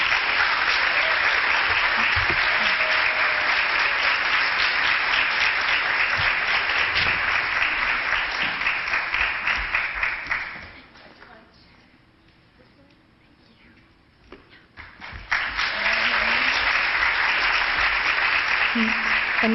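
Sustained, loud audience applause at the Greyhound Gala 2019 award presentation, dipping to a quieter lull midway before swelling back up to full strength.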